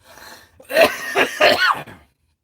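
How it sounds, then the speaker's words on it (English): A person coughs and clears their throat in a short burst of three or four harsh, close coughs, then silence. "let me cough this one out"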